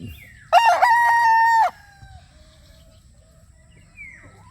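A stag rooster crows once, loud and close, a single sustained cock-a-doodle-doo lasting about a second, followed by quiet farmyard background and a faint distant bird call.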